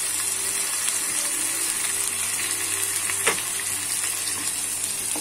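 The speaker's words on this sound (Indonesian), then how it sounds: "kita tumis dia sampai garing, sampai betul-betul masak" Blended spice paste and chicken sauté in hot oil for ayam masak kicap, giving a steady, close sizzling hiss that runs unbroken throughout, with faint clinks and no talking.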